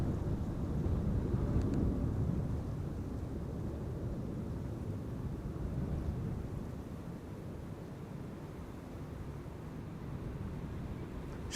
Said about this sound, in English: This is KLM flight 927. It's need 2 Embraer 195 going to Scotland to Eden.